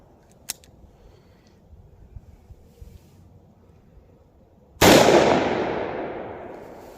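A single loud, close gunshot from a .357 Magnum revolver firing Winchester Silvertip ammunition at an outdoor range, ringing out and decaying over a couple of seconds after quiet rustling and a faint earlier click.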